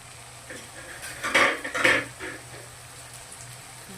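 A utensil scrapes and clinks against a pan while fish is stirred in oil with chopped coriander, making a short cluster of close metallic scrapes over a steady low kitchen hum.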